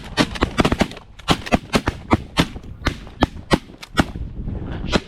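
Rapid shotgun blasts ring out during a Minnesota goose hunt, more than a dozen sharp cracks in quick irregular bursts over about five seconds, loud and close.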